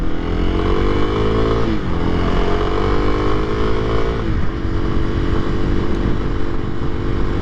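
A 2023 Kawasaki KLX300SM motorcycle engine revs steadily while riding, loud and close, with rising tones as it shifts through gears, no talk over it.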